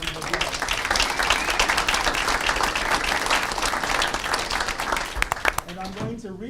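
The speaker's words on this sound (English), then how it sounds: "So give them a round of applause." A room at a City of Danville council meeting applauds the state champion 8th grade boys' 1600 medley relay team, loud close clapping with some crowd noise, ending as a voice begins speaking.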